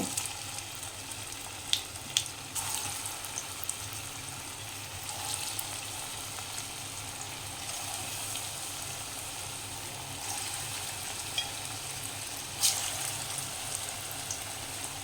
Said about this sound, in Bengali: বাকি কোপ্তার বলগুলো আমি ঠিক একইভাবে ভেজে নেব।